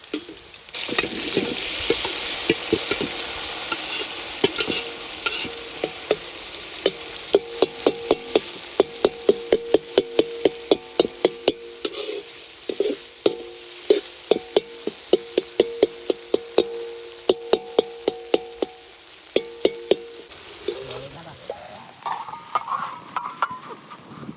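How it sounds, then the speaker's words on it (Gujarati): A spoon scrapes and taps against a pan as boiled potatoes and peas are stirred into a samosa filling, giving steady rapid clinks and scraping over a low sizzle, ending with a rising whirring tone. "આપણે બાફેલો બટાકો અને વટાણા અંદર એડ કરી દઈશું"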